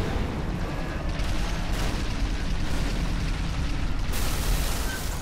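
A vehicle blows up in the Halo: Reach video game, a loud, dense, continuous roaring blast that fills the whole clip with rumbling noise and no voices over it.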